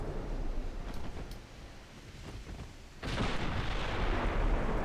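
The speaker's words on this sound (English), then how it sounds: "Just shoot it through the smoke." Distant gunfire fired through smoke in the video game Tattered, a few faint muffled shots over a low rumble before a louder burst of noise swells in.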